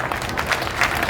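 An audience applauds at a poetry gathering, a short burst of dense, fairly soft clapping from a crowd, continuous and slightly distant.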